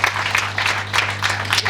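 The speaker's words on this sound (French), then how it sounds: "Des applaudissements s'il vous plaît." Audience at a diocesan training closing ceremony applauding, dense pulsing clapping from many people, loud and close, short burst with no voices over it.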